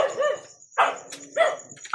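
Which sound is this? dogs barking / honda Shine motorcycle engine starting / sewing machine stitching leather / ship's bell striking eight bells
dogs barking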